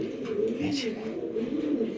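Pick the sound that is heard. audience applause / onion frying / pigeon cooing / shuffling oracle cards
pigeon cooing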